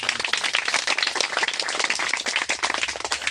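A church congregation claps loudly and steadily together, a dense crowd of hands filling the room without pause.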